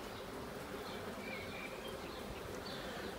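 Honey bees hum steadily around an opened beehive with honey supers, a dense, even buzz filling the air at close range throughout, without voices.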